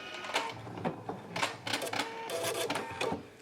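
Husqvarna Viking Epic 980Q sewing machine stitching a buttonhole, close bursts of rapid mechanical whirring and clicking that start and stop in short uneven runs, with brief pauses between.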